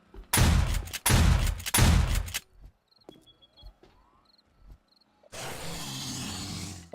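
Gunfire in the survival game 7 Days to Die: three loud, close blasts of rapid shots, a quiet stretch with faint chirping, then another sustained burst, with no voices.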